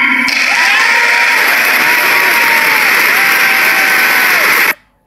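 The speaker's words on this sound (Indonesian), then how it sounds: "jadi langsung diiringi dengan tepuk tangan yang sangat meriah" Loud, sustained applause and cheering from the chamber of the United States Congress following Netanyahu's speech, a dense wall of clapping with whoops that runs steadily for several seconds, then cuts off abruptly.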